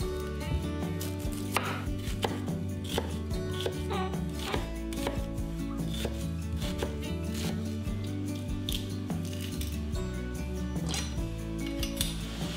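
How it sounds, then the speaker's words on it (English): A knife chops parsley and onions steadily on a cutting board, quick uneven strokes over background music. "I'm just going to chop up some parsley and some onions and mince some garlic"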